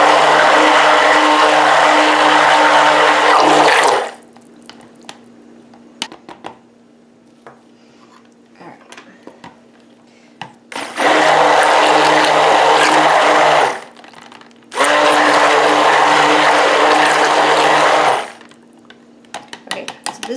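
White handmade soap batter tinted with titanium dioxide is whipped by a whirring electric mixer in three loud, steady bursts, with quiet pauses and faint clinks between them.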